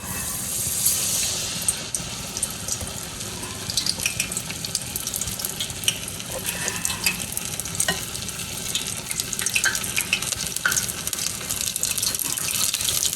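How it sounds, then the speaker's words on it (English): Beer-battered haddock strips fry in hot oil for Baja fish tacos, giving a steady, loud, dense sizzle and crackle that fills the whole stretch, close up and without voices. "We're cooking the fish in some hot oil till golden brown"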